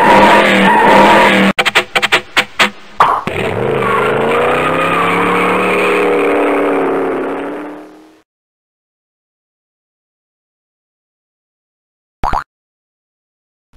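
In the 1994 PC game How Many Bugs in a Box, a cartoon car engine sputters in a few short bursts, then revs into a loud sustained race that winds down to silence, followed by a brief squeal.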